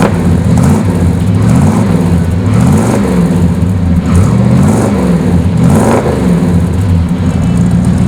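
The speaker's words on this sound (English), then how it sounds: "Check out the sound out back." A 1966 Chevrolet Chevelle SS 396's exhaust burbles loudly up close, with a deep, lumpy idle broken by a few rhythmic blips of revving that swell and fall back.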